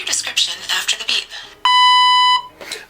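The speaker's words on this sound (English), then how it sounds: "Speak your description after the beep." An electronic beep prompt from the LookTel recognizer app follows a stretch of speech, then sounds as a single loud, steady tone lasting under a second, close and clean.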